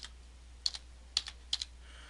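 Three short bursts of keystrokes on a computer keyboard, each a quick cluster of clicks spaced about half a second apart, close and fairly quiet over a faint steady hum.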